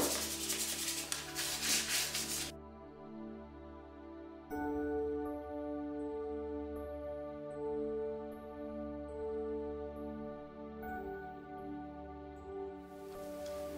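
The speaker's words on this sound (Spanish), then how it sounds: "ahora vamos a proceder a lijar para que la superficie tenga más agarre" Fine wet sandpaper rubs briskly over a wooden furniture surface in rapid scratchy strokes for a couple of seconds, then gives way to soft background music.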